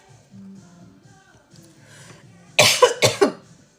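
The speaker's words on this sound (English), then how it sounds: "This cough thing is supposed to be gone." A burst of three or four harsh coughs, loud and close, following a stretch of quiet low murmuring.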